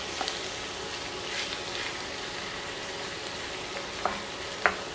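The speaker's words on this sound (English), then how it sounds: "Give it a little stir." Shrimp shells fry in a pan for Portuguese shrimp Mozambique while being stirred: a continuous near sizzle with a couple of sharp utensil clicks near the end, no voices.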